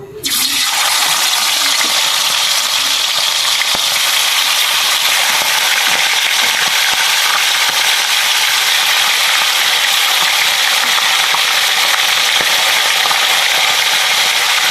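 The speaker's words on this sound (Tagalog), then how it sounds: "prito muna natin yung chicken hanggang sa maging golden brown." Loud, continuous sizzling of chicken frying in hot oil in a pan, a dense steady crackle that holds unbroken throughout.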